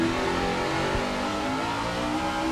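A NASCAR race car engine under light throttle during the 2006 Dodge/Save Mart 350 at Infineon, a steady droning engine tone with a constant roar, sustained and fairly loud without a break.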